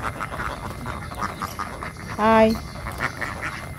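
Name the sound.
duck quacking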